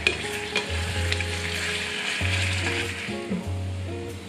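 Tahchin chicken sizzles and fries in an oily pan during a final stir, a steady close crackle with periodic low scraping strokes of the stirring utensil.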